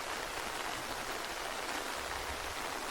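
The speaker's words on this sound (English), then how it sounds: "Rain." Steady rain falls during a stop on a motorcycle ride along the Tail of the Dragon road, a continuous, even hiss of drops with no speech.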